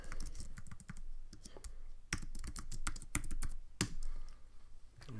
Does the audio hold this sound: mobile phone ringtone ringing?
no